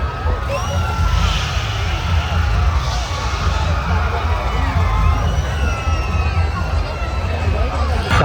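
Large crowd at a summer festival fair in Cuddalore, shouting and cheering in a dense continuous roar, with children's shrieks and voices rising above the steady din throughout.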